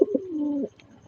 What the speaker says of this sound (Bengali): এইখানে দেখতে পাচ্ছেন রেসার গ্রিজেল কবুতর ডিমে বসা।